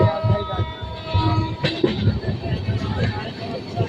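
Sampoorna Kranti express train near Aliganj railway station, heard from on or beside the track as a rumbling train with rhythmic low clatter and a brief horn-like burst, under some talk.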